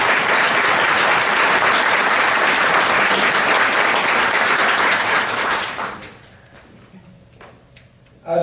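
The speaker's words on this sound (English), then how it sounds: "let's give them a round of applause" A crowd at the Artemis 2019 gathering breaks into a full round of applause that is loud and dense for about five seconds. The clapping then fades quickly to near silence, and a brief clatter comes at the very end.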